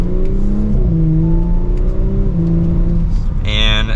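2023 Audi S5 Premium Plus Sportback accelerating hard from second gear, heard from inside the cabin as a steady engine drone climbing in pitch with a quick upshift, under a driver talking.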